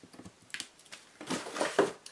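Crinkly paper rustling and a few small snaps as a package of scrapbooking paper is handled and torn open, close by, rising into a louder crackle near the end.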